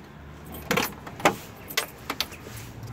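A car being opened with a jangle of keys, followed by several sharp clicks and clunks spaced through a few seconds against a quiet background.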